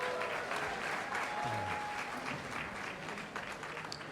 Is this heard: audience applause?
yes